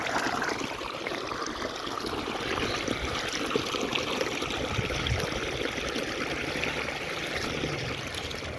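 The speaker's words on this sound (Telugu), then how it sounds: "అక్కడ నీళ్ళు వస్తున్నాయి" Hill water running down into a farm field, a steady close trickling and rushing flow with no talking over it.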